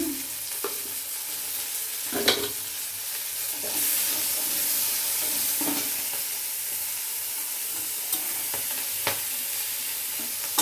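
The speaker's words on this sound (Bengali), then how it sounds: "এবার একটু ভাজা ভাজা হয়ে গেছে" Steady sizzle of paneer frying in a pan, with occasional scraping strokes of a spatula stirring, close and moderately loud, no talking.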